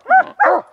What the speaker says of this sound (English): What a coon dog.